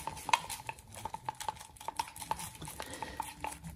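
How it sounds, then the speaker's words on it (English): A brush or stick stirring paint in a small pot to mix a soft pink, giving quiet repeated scrapes and light taps against the container at close range, with no talking. "And stir these up so it's a lovely"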